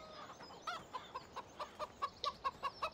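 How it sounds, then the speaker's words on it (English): Chickens in the farming video game Pleasant Valley 17 cluck in a quick, regular series of short, close calls over a soft background hiss. "Take a look at our chickens here."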